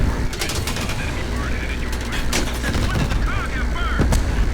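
Bridge demolition blast in the Vietnam mission of Call of Duty Black Ops Cold War, heard as loud bursts of explosive and gunfire-like cracks over a dense, rumbling battle din throughout.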